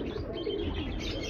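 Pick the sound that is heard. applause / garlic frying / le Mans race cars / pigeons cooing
pigeons cooing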